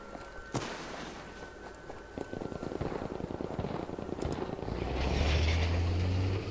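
Mortar blasts in Battlefield V's Battle Royale mode, a series of crackling, rumbling impacts spread across the scene, followed by a swelling low engine drone that may be a tank approaching.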